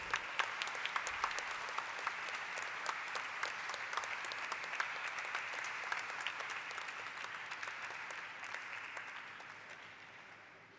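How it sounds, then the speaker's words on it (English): An audience at a corporate listing ceremony applauds, a steady dense patter of many hands clapping that continues for about ten seconds, then slowly fades. "Please give a round of applause."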